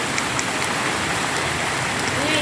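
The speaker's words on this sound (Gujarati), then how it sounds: "ઓ ભાઈ સાહેબ વરસાદ જો પડે" Heavy rain pouring down during a storm in Patdi taluka, a dense, loud continuous hiss of falling water, with a voice faintly present.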